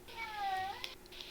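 A cat gives one drawn-out, wavering meow, close and clear, then a couple of faint short sounds trail off behind it.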